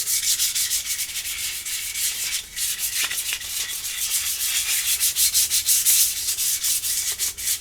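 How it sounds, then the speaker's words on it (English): Steady, scratchy rubbing of sandpaper on a wooden rifle stock by hand, continuous back-and-forth strokes at close range with no talking. "These sanding pads are better for this, but mine are all gunked up. So I'm just using some paper."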